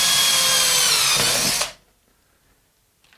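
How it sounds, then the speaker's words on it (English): A battery drill bores a pilot hole for a bolt through wood, a loud steady whine for about a second and a half that then cuts off abruptly, leaving near silence. "that was just a pilot hole because I have to make it bigger to fit the actual bolt through"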